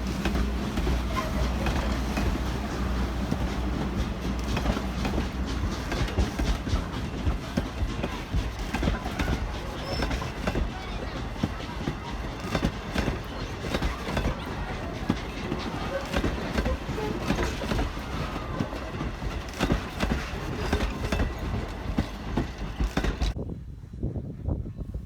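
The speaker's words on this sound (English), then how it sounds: "89 is Strasburg's smallest steam locomotive and can often be found on not-so-busy days or on the weekends" Strasburg Rail Road steam locomotive 89, the line's smallest engine, hauls a passenger train, giving a steady dense rumble and clatter of rolling cars, loud and continuous for over twenty seconds before cutting off abruptly near the end.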